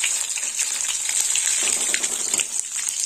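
Two bay leaves and green chillies hit hot oil as a tempering for moong dal with peas, giving a bright, continuous close sizzle with a steady hiss and light crackle, no voices.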